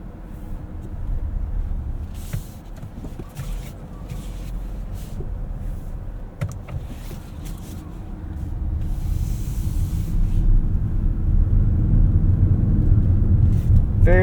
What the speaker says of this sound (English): Let's go for a drive and see what this feels like on the road.